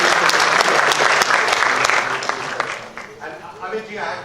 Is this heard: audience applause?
yes